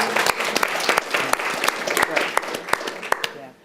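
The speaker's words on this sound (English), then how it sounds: "Can we just have a round of applause for that?" An audience at a school board meeting breaks into applause, dense overlapping claps ringing out loud and close before tapering off at the end.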